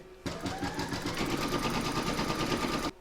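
An embroidery sewing machine stitches an outline on an in-the-hoop pouch project, a steady rapid whirring rattle running loud and continuous for about three seconds before stopping abruptly.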